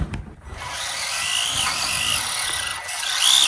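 A modified FMS Atlas 6X6 RC crawler climbs over a couch, its small electric motor whining steadily and shifting pitch as it strains and eases, close and fairly loud.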